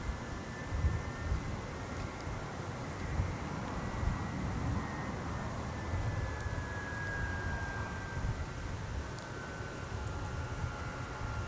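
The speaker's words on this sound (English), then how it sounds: "There's our United flight." A United Airlines jet arriving from Denver at Minneapolis–St. Paul Airport, heard as a steady broad roar with a faint whining tone gliding slowly downward, continuous and moderately loud with no talk.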